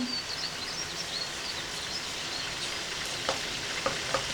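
Borano cheese sizzles and fries in butter in a pan, a quiet steady crackle and hiss with a few sharper pops near the end, no talking.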